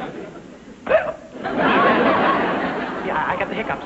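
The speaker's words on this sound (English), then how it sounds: "Yeah, I got the hiccups." A man in an old radio sitcom gives one sharp, brief hiccup, followed by a stretch of broad, steady noise that sounds like laughter and chatter.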